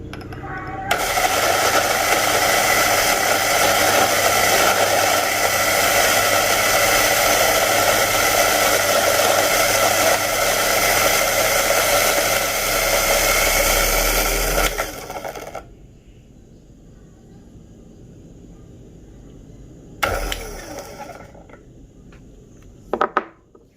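A coffee grinder grinds a blend of beans with a loud, steady whirring roar for about fifteen seconds, then cuts off, followed by quieter clicks and two short bursts of grinding.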